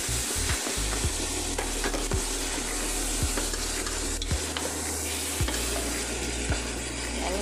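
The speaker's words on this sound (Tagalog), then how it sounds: "isote lang natin or ipan-fry lang hanggang mag-brown" Chicken sizzles as it fries in a pan until brown for tamarind adobo, a steady loud crackling hiss with repeated sharp scrapes and knocks of a utensil stirring the pan.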